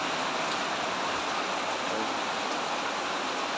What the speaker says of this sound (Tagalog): malakas yung ulan sa amin ngayon